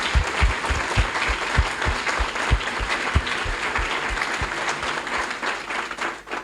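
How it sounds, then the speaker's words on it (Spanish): At a school panel discussion on education at Colegio San Ignacio, an audience applauds the teachers with dense, fairly loud clapping in which some close, heavy claps stand out, fading slightly at the end. "Los pueden aplaudir si quieren."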